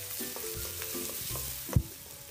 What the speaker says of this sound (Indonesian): Ditumis terus sampai kering, sampai matang dan sampai baunya harum.